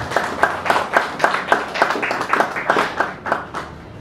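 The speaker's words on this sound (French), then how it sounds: "Merci de nous applaudir" An audience at a coaching event in Congo Brazzaville claps in a brisk, fairly rhythmic run of distinct handclaps, close and fairly loud, from a modest group rather than a large crowd.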